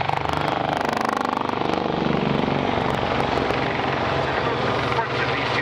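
Two helicopters approach together, a loud steady rotor thump and engine roar that fills the clip, with a voice talking over it.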